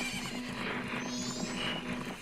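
A horse in the Majora's Mask video game whinnies with a drawn-out, quavering neigh over steady clip-clop hoofbeats and a background music drone, fairly quiet throughout.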